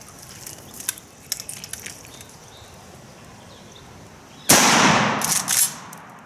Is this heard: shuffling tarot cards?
no